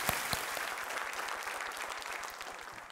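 A studio audience on KBC claps in steady, dense applause, fairly faint and distant, with a few sharper claps standing out at the start and the clapping slowly fading over a few seconds.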